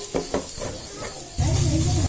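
Spoon stirring chili, coriander and garam masala powders into browned onions in a hot pan for Kerala tapioca biriyani, with a few scraping strokes followed by a louder, steady sizzle near the end.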